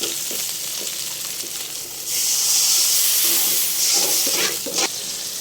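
Semolina frying with onion and garlic bursts into a loud, steady hiss and sizzle as water is poured into the hot pan, swelling after a couple of seconds and holding strong to the end with light stirring scrapes.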